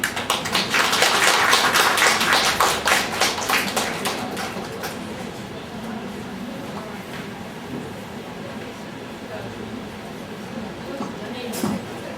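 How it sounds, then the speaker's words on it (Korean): Audience applause welcoming a lecturer at a special lecture on the Donghak Peasant Revolution, a dense burst of clapping that fades after a few seconds into room murmur. "자 박수로서 이렇게 맞아주시면 고맙겠습니다"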